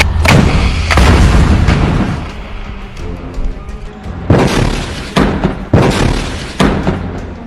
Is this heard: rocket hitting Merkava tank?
yes